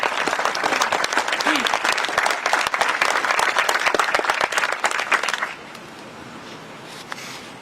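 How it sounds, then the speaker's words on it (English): Audience applause at an outdoor Memorial Day service, a dense sustained clapping crowd for about five seconds that then cuts off abruptly, leaving quieter background murmur. "let's give a special round of applause for Camelia, please."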